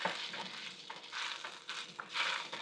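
Tomatoes fry in a pan for a curry masala, a close hiss and sizzle swelling in waves as a utensil scrapes and breaks them up.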